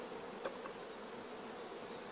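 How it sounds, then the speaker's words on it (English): Honeybees crowd thickly around queen rearing cells on a rearing frame, making a soft, continuous buzz that holds steady throughout. "Bees crowding thickly around the cells is a first positive sign of good acceptance."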